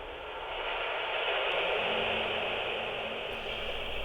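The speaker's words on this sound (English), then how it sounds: "It felt appropriate to add noises from the London Underground in the background of the song." Steady, hissing rumble of a London Underground train, washed in reverb so it sounds distant and cavernous, holding constant throughout with no voices.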